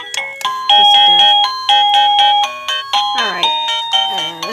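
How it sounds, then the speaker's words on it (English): Liztek wireless doorbell chime ringing a bright, repeating multi-tone melody, loud and close, with a voice heard briefly around it. "I wanted to talk to you about this doorbell button"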